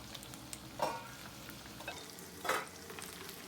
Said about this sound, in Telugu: ఇలా మధ్య మధ్యలో కలుపుకుంటూ బాగా ఫ్రై అవ్వాలి దొండకాయలు ఆయిల్లో